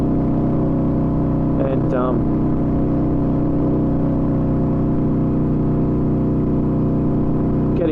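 Yamaha Virago XV250 custom bobber motorcycle engine revving hard in fourth gear while riding, a loud steady drone with wind rush, heard close from the bike.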